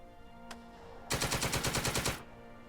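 Machine gun fire in the WWII wargame Second Front: one faint single shot, then a loud, rapid burst of about a second of evenly spaced rounds close up, with no talk.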